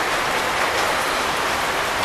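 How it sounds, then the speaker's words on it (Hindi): Steady rain pours down during a motorbike food delivery ride, a dense, even hiss filling the scene throughout without a break and with no voices. "बारिश बारिश बारिश भाई, बारिश में ऑर्डर करना पड़ रहा भाई"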